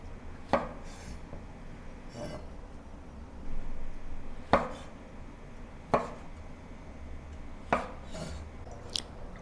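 A knife cuts larger white mushrooms into halves or quarters, producing about six crisp, separate chops at uneven intervals, close and fairly quiet, with no speech.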